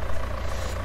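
Tractor engine running steadily in Farming Simulator 19, a low, even idling rumble held close and alone throughout the short moment.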